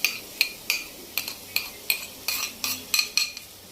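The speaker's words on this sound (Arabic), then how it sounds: "بفضل اقلب اللحمه المفرومه لحد ما اللون بتاعها معايا يتغير" Spoon clinking and scraping against a pan as minced meat is stirred with red peppers, about ten sharp, evenly spaced metallic strokes, close and fairly loud with a soft background hiss.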